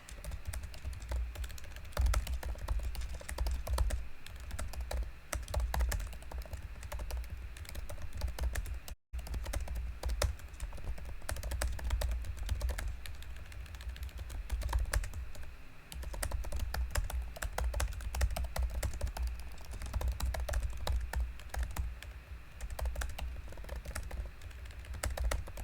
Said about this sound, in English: I just got here and you're typing instead of talking.